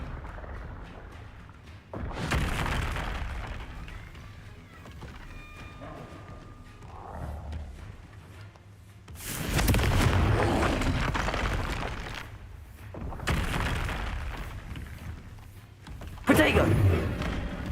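Confringo spell blasts in the game Hogwarts Legacy during a wand duel, several loud roaring bursts with heavy low rumble, each lasting a couple of seconds, separated by quieter gaps.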